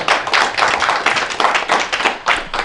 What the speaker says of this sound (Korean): 뜨거운 박수 한 번 더 부탁드립니다